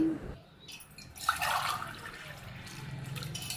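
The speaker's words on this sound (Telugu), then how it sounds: "ఒక గ్లాస్ రవ్వకి ఆరు గ్లాసులు వాటర్ పోసుకుంటున్నానండి" Water splashes and gurgles as it is poured into a thick-bottomed cooker pot for making suji fryums, a short soft pour with a brief louder gush in the middle.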